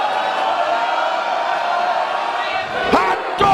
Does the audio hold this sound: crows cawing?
no